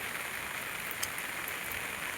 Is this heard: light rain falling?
yes